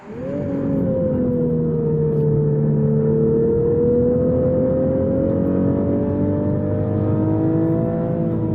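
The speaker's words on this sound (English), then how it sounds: "a smooth and quivering howl that furiously floods the cabin and nearby scenery while growing in intensity" A Toyota GR sports car engine revs up in a smooth, rising howl on a track, climbing steadily in pitch and loudness over several seconds, close and continuous.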